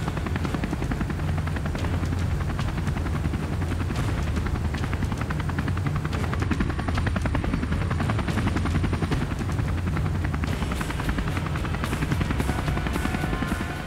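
A rescue helicopter in bumpy backcountry flight, heard from on board as a loud, constant rotor and turbine roar with a fast rhythmic blade chop running throughout, steady and unbroken.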